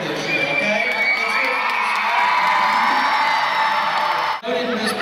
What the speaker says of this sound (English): let you cheer her as Brookwood's Teacher of the Year for this year